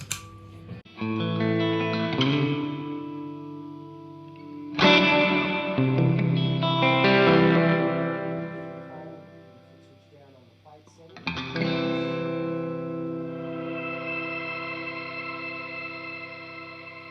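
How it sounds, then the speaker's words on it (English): Electric guitar chords through a combined reverb and delay pedal on plate reverb ring out with lush reverb and shimmering trails, three strummed passages each washing into a long, fading tail. "So it's a reverb and delay in one. So let's start with the reverb side."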